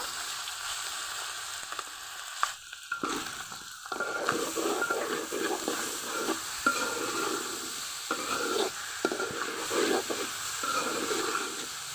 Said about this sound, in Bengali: হালকা করে ভেজে নিতে হবে চালগুলো